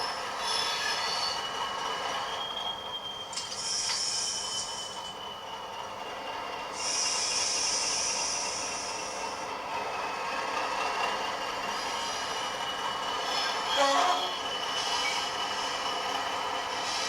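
A Bachmann Class 40 model diesel locomotive, number 40142, with DCC sound runs slowly over Peco insulfrog points into an engine shed, giving a steady engine drone with intermittent wheel squeals and hiss, and no talk.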